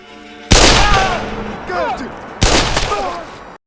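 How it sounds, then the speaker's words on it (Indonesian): Pistol shots fired wildly in all directions during a film scene, two loud booming blasts with long echoing tails and chaotic rumbling between them, layered with shrill whistling and voice-like sounds. "tiba-tiba merebut pistol Fergus dan mulai menembak ke segala arah"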